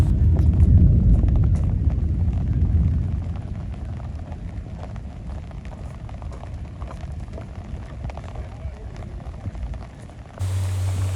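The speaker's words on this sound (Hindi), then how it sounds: "बारिश इस वक्त ज़ोरों शोर से बरस रही है, हर चीज़ भीग रही है" Heavy rain pours onto a forest hiking trail on the Pipeline Track at Ayubia in Pakistan, a dense, steady wash that is loudest at first, eases slightly midway, and is joined by a low hum near the end.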